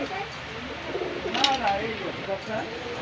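Pakistani high-flying pigeons coo softly in repeated throaty phrases, with a voice talking over them at moderate volume.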